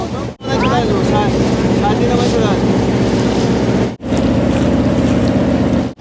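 A hand-pulled boat ride on the Maithon Dam reservoir, with steady loud water and wind rush filling the recording, broken by two brief dropouts.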